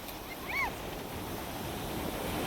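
Sea waves washing ashore at a beach on a family outing, a steady moderate surf wash with wind noise, plus a brief faint whistle-like tone early on.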